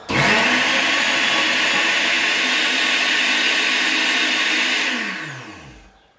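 A food processor whirls fresh bread into breadcrumbs: a loud, steady motor roar running for about five seconds alone, then winding down as the blade slows to a stop.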